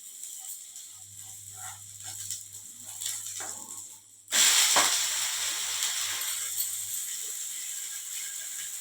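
Wheat dosa (godhuma atlu) with green chilli roasting on a hot pan, a steady close sizzle with faint scraping that jumps louder midway and then holds, no talk.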